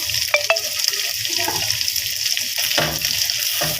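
Peas tipped into liver frying with onion and garlic in a pan: a steady close sizzle, with a few brief clattering bursts from the pan or spoon, and no talking.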